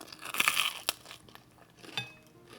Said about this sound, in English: And you can hear how crunchy they are.